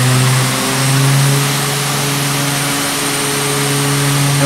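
Twin turboprop engines of a Shorts 330 airliner in the MSFS flight simulator, run up to full throttle on the runway: a steady, loud droning roar with sustained propeller hum, continuous throughout with no talk.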